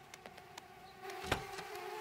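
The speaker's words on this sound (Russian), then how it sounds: "Привет, пчелки." Cartoon bees buzzing in a children's animated series, a soft whirring insect drone with a few short buzzing bursts, the strongest close buzz near the end, fairly faint and without speech.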